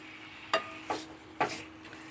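Chilli chicken frying in oil with pepper powder sizzles softly while a spoon stirs it in the pan, making three or four distinct scraping strokes over a faint, steady hiss.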